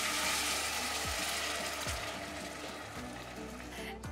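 Soup water poured into a pot, a steady close splashing rush with a few low gurgles, holding at an even level without speech.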